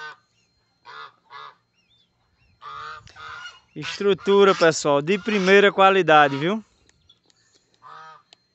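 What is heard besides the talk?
geese honking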